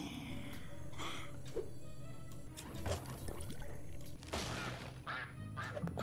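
Duck quacks from the video game Ratropolis come as several faint, scattered calls mixed with soft watery trickling and game noise, and no one talks over them.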